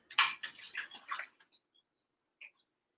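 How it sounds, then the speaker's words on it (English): Soup stirred in a pot, a brief burst of utensil scraping and clinking against the pot followed by a few faint taps, then near silence. "Let me just stir it to make sure."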